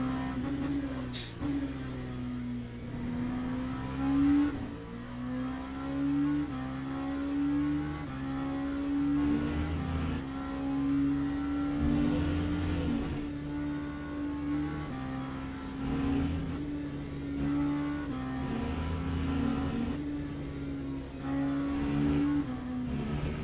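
An LMP2 or GT3 race car engine in Le Mans Ultimate, a racing video game, drones steadily from on board, its pitch rising and falling with gear changes, loud and continuous throughout.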